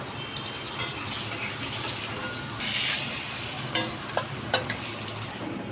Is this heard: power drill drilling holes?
no